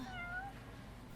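A cat meows in the video game Yakuza 6, a single short, clear mew right at the start that fades over a low, quiet background hum.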